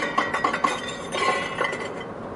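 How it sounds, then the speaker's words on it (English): Old glass jam jars struck like a drum kit, a quick run of bright clinking taps in uneven bursts, close and fairly loud with no talking. "Ou vous fabriquez un drum avec vos vieux pots de confiture."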